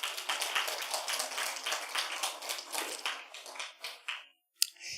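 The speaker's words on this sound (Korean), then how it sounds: "우리 하나님께 박수로 영광 올리겠습니다" A church congregation at an evening cross seminar claps in a dense, lively burst that fades out near the end, followed by a single sharp tap.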